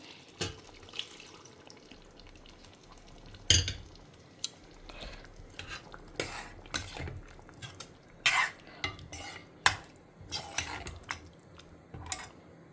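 Moong dal is stirred into bitter gourd kuzhambu in a pot, with scattered clinks and scrapes of a spoon against metal and wet sloshing, fairly quiet and separated by pauses.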